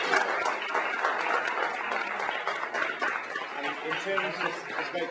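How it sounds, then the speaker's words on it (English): A student meeting audience at King's College gives a sustained round of applause, steady dense clapping from a crowd in a hall with some chatter mixed in. "a big round of applause to all three of you"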